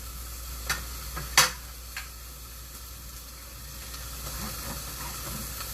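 Ranch dressing hitting a hot dry pan on a white stovetop: a brief sharp spatter and hiss, then a low, steady sizzle with a few faint ticks, close by and with no talking.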